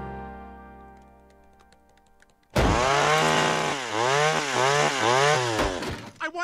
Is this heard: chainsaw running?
yes